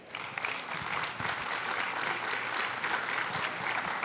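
Applause from an audience welcoming two presenters of a book at a book fair, a steady dense wash of many hands clapping at moderate level, continuous and alone for about four seconds.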